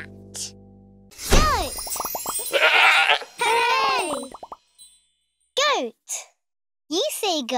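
Wavering, nasal goat bleats in short bursts separated by pauses, loud and close, with a voice and playful sound effects.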